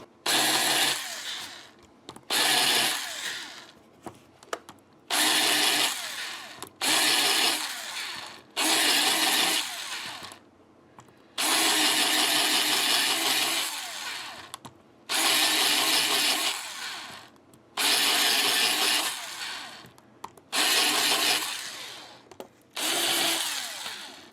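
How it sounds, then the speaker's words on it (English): A power drill whirs in about a dozen short bursts separated by brief pauses, close and loud, as a countersink bit bores out string ferrule holes in a guitar. "Just want to drill them open to that point."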